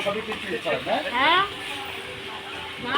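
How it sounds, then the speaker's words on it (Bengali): Pakoras for chilli chicken sizzle in hot oil at an outdoor cooking area, a steady close frying hiss while someone talks over it. "চিলি চিকেনের জন্য পকোড়া ভাজা হচ্ছে।"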